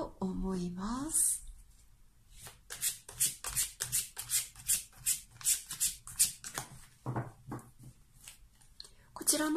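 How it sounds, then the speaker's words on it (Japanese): Tarot and Lenormand cards being shuffled by hand in a run of quick, crisp riffling bursts up close, with a voice talking briefly at the start and end. "こちらのカードね、シャッフルしています。"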